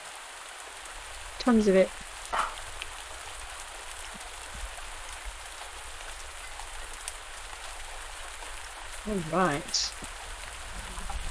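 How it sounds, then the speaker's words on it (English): Steady rain falling in the video game Pumpkin Days, a soft continuous patter throughout, with a person briefly talking over it and a couple of short chirping game sounds. "before the rain wrecks it"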